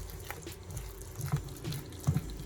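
Water poured into bacalaito batter in a kitchen, a faint soft trickle and liquid splash with a few small gurgling plops near the end, quiet and close.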